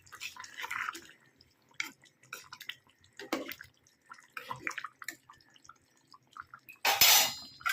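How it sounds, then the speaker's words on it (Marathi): Curry of dried bombil fish and drumstick pods boiling in a pot, with scattered soft bubbling and plopping bursts and a louder splashy gurgle near the end, no talk. "आता भाजीला उकळी येत आहेत"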